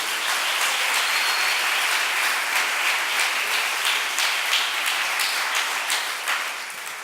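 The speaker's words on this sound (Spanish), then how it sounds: "Dale un aplauso al Señor" A church congregation applauds the Lord with a dense, steady roar of many hands clapping that holds for several seconds and fades slightly at the end, with no speech.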